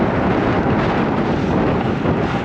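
Strong headwind gusts buffet the microphone while riding north along a Southeast Texas farm road on a dry, gusty day, a loud continuous roar that fills the whole stretch with no talking.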